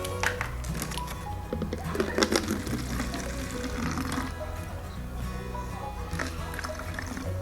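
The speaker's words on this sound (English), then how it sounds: "you can pour your vinegar in." Vinegar pours steadily into a plastic water bottle for a homemade bottle rocket, a continuous close liquid splash and gurgle lasting the whole stretch, with faint background noise.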